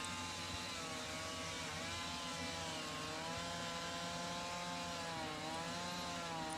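Chainsaw cutting into a log while carving an owl; a continuous, revving engine drone with wavering pitch holds steady throughout, moderately distant and alone, with no voices.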